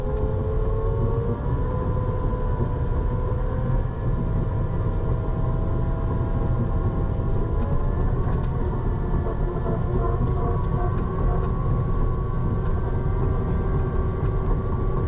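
A CAT D6 bulldozer pushing dirt at a landfill, its diesel engine running loud and close in a steady rumbling drone with faint clanks over the top.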